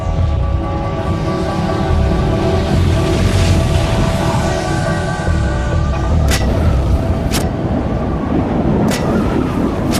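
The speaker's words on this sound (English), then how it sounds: "A series of booms could be heard hundreds of miles away." Deep rolling roar from the 1883 Krakatau volcano eruption, loud and continuous, with several sharp explosive booms cracking out near the end.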